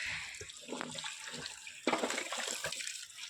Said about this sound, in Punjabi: ਕਈ ਵਾਰ ਧੋਣੀਆਂ ਪੈਂਦੀਆਂ ਨੇ ਸਾਫ਼ ਪਾਣੀ ਕੱਢਣਾ ਚਾਹੀਦਾ